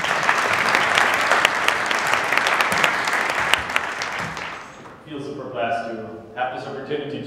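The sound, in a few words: audience applause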